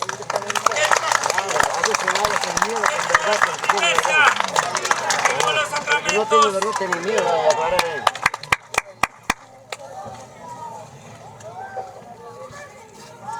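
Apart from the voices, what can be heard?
congregation clapping hands for Jesus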